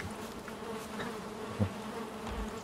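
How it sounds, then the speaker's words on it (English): Bees buzzing around a beehive in the video game Valheim, a steady faint insect drone running throughout with no talk. "And now these bees need more space."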